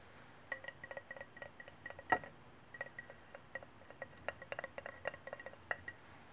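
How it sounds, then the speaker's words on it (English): A lid screwed onto a jar gives a run of small, crisp clicks and ticks, irregular and close, with one sharper clink partway through. Nothing else is heard. "And lid screwing on."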